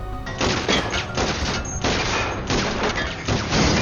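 Dense, relentless shotgun fire with heavy booms and crashes, continuous loud bursts filling the whole stretch like a film action scene.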